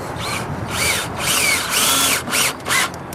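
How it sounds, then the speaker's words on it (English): A power drill driving screws into wooden strut blocking, several short bursts of whirring drill motor rising and falling in pitch, close and loud. "Put a couple of screws in this."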